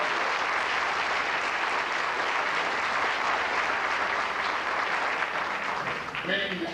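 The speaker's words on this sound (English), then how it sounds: "We have a round of applause, please." An audience applauds steadily through a school senior awards ceremony after an honor roll is read. The clapping is moderately loud and continuous, and it begins to thin out at the very end.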